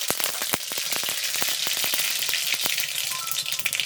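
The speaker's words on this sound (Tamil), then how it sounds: "கடுகு நல்லா பொரிஞ்செடுத்து" A spoonful of mustard seeds spatters and pops in hot peanut oil, a dense run of sharp crackles and sizzling snaps, close and fairly loud, with no talking.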